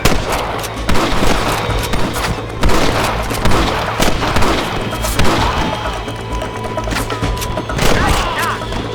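A Red Dead Redemption shootout: dense, loud gunfire with overlapping shots and thumps, under shouted voices and a constant busy backdrop.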